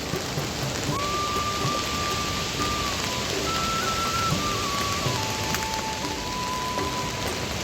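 Heavy monsoon rain pours down in the Uttarakhand hills, a dense, constant roar of rain on surfaces close around, with a faint high tone drifting through it and no talk.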